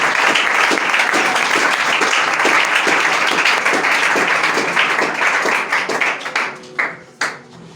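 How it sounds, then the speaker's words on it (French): A church congregation claps and applauds in praise, dense and sustained at first, then thinning into scattered last claps that fade out. "Acclamons pour le Seigneur."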